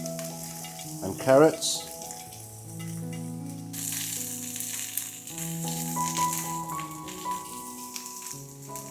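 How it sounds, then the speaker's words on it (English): String beans and carrots stir-frying in a tablespoon of cooking oil in a medium-heat pan, a steady sizzle with a clatter as they go in and brief talk over it. "1 tablespoon of regular cooking oil into a medium heat pan. In with our string beans"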